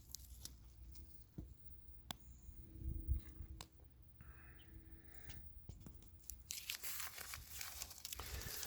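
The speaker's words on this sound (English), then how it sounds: "I'm going to pull the tape off here so you can see the rest of it." Blue painter's tape peeling off an RV door fitted with a gas strut opener, heard as quiet rips and crinkles over about nine seconds, with a longer, brighter tearing stretch near the end.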